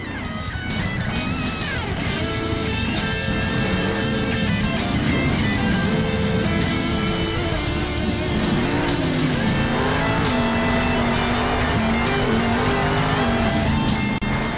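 A monster truck spins donuts in the video game Monster Jam Steel Titans, its engine wailing and wavering in pitch through continuous revving while tires squeal and skid steadily underneath, loud and unbroken throughout.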